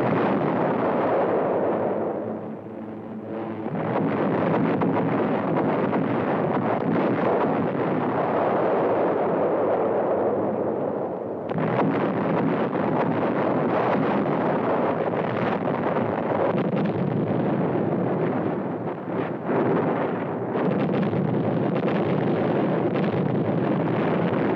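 Distant naval and aerial bombardment during the D-Day invasion, a steady rumbling roar of explosions with wind-like noise, loud and continuous with no voices.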